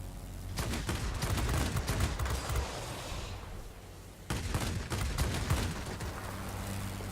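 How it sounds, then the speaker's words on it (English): Rapid bursts of automatic cannon fire from a Yak-3T fighter plane in World of Warplanes, two long volleys separated by a short lull, loud and close over a low engine drone. "Short little bursts with these cannons. They really do overheat."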